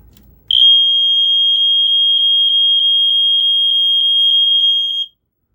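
A First Alert SA80FC smoke alarm in a bedroom sounds during a test: a loud, continuous high-pitched tone that starts suddenly and holds steady for several seconds before cutting off, with no talking over it.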